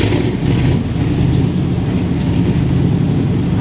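An engine turns over and runs with a steady, loud, rumbling drone that holds without a break from start to finish.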